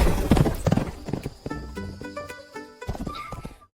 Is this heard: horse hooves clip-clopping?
yes